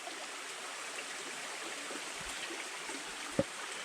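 A small forest creek flows steadily near a hiking trail below a hill, a soft continuous rush and trickle with a faint knock near the end and no voices.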